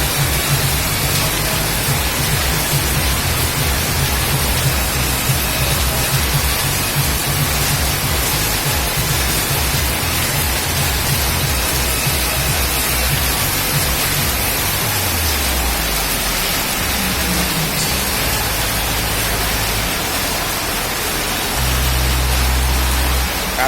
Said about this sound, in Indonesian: Posisinya lagi hujan lebat.